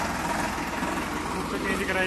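A 1990 Ford tractor engine idles with a steady, low, even rumble close by while people talk over it.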